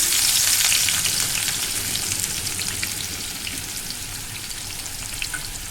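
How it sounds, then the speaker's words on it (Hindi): Sliced onions frying in oil in a pan, a dense, crackling sizzle that is loudest at first and settles into a steady hiss with scattered pops, close up, no speech. "प्याज को मैं गोल्डन फ्राई करूंगी।"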